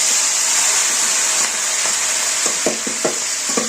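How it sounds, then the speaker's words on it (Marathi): Paneer fries in hot oil in a wok (kadhai), giving a continuous loud sizzle with occasional sharp crackles and pops that grow more frequent toward the end. "आपण इथं कढईमध्ये तेल ठेवलेलं आहे, आणि आता हे थोडंसं आपल्याला याच्यामध्ये फ्राय व्हायला ठेवायचंय"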